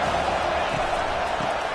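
A stadium crowd in the College Football 25 video game, during a TCU vs Arizona matchup, gives off a steady, dense roar that holds at an even level throughout the short stretch.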